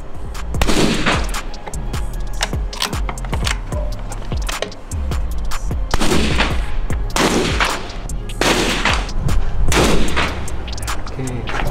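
Rifle shots ring out on an outdoor shooting range, several loud sharp cracks spaced a few seconds apart, each with a brief echoing tail.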